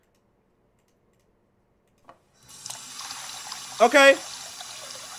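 Water runs from a sink tap in a horror video game, starting quietly and rising into a steady splashing stream, with a brief spoken word just before.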